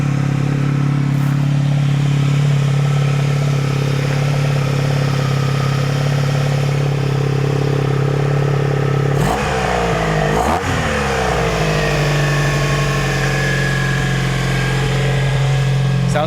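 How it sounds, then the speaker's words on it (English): A Honda Sabre motorcycle engine idles at a raised speed, a steady close rumble that holds throughout, with a brief rev or disturbance around the middle before settling back to the even idle. "I got the idle cranked up a little bit just to keep the oil pressure up."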